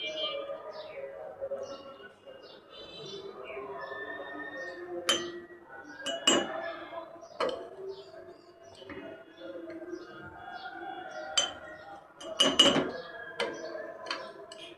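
Oil that has separated from chicken cooked for pilaf is scooped from the pot into a cup. A metal spoon makes scattered clinks and taps against the pot and cup, close by, with quiet stretches in between.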